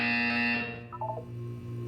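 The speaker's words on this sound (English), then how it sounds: "When you hear the buzzer, look down at the floor." A buzzer from the video game Portal 2 sounds as a loud, steady electronic drone that cuts off, followed by a short descending run of softer beeps over a faint background hum.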